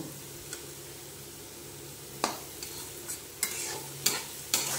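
Dal ingredients frying in oil in a pan, a soft continuous sizzle with a handful of light scraping stirs and taps of the spatula, close but fairly quiet, no one talking.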